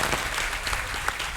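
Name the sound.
audience applause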